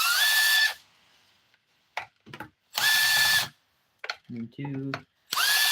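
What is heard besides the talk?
power drill removing screws from chainsaw recoil cover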